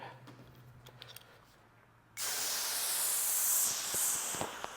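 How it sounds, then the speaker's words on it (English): A hose sprays a broad, steady hiss of water onto a car's painted panel. It starts abruptly after a quiet stretch of faint clicks and carries on loud and close to the end. "let me spray some water on here and we'll see what type of beading we have to start with"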